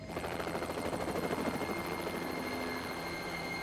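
Steady helicopter rotor thrum with a broad engine whine, continuous and fairly loud throughout, no voices.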